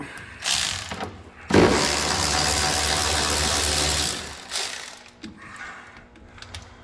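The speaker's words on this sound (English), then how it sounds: "Even this electric ratchet is a bit sketchy." An electric ratchet backing self-tapping screws out of plastic covers on a Polaris RZR XP 1000, with a short burst and then a long, loud, whirring run up close, followed by a few faint clicks.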